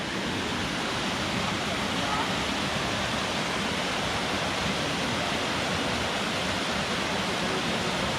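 Duc Falls waterfall, a small side chute of the falls along Washington's Highway 101, roars as a steady broadband rush of falling water, close and loud and continuous throughout with no talking.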